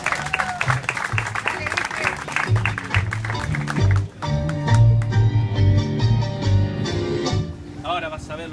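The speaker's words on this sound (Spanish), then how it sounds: "Un aplauso para el caballero." An audience applauds a tango dancer, a steady patter of clapping mixed with tango music and a voice talking over it.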